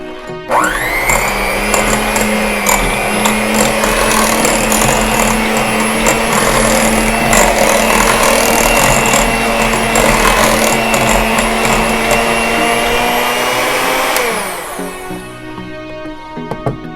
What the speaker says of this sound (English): always start at the lowest speed on your mixer